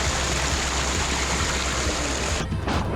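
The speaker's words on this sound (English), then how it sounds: "you can even hear the underground brooks bubbling and running under us" Water rushing and bubbling from underground brooks beneath a soaked trail, a steady broadband hiss that runs evenly throughout, close and continuous, with a brief dip near the end.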